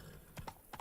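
Horse hooves clop in quick rhythmic beats, a few close thuds over a faint background, ridden in The Witcher 3: Blood and Wine.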